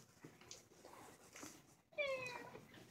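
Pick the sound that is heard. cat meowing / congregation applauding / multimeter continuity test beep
cat meowing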